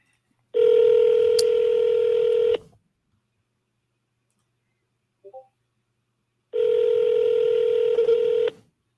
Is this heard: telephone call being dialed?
yes